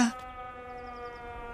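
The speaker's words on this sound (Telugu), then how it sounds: "సైరన్" A warning siren drones steadily in a tense scene of a Telugu action film starring Ravi Teja, a sustained tonal wail holding at an even level throughout, with no voices over it.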